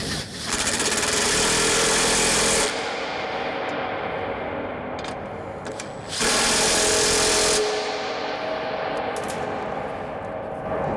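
A power tool runs in two loud, steady bursts of several seconds each, tightening a carriage bolt that clamps drag rubber to a bin paddle sweep trough, with quieter rattling and handling noise between the bursts.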